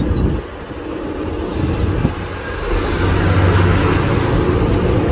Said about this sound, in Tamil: கியர் மாற்றியாச்சுங்க இந்த கியரில் இறங்க போகிறோம்